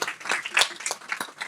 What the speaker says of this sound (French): Allez, on l'applaudit très fort.